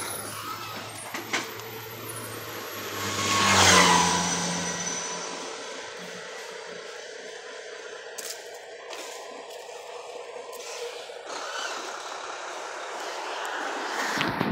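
A truck driving past on a road during a street walk, swelling to a loud rumbling pass and fading, followed by quieter traffic noise and scattered clicks.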